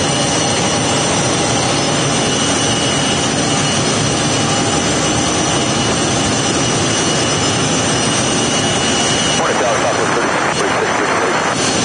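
Jet engines of an Airbus A321 at Phoenix Sky Harbor airport roar in a loud, continuous broadband drone with steady whine tones, while radio voices talk over the noise.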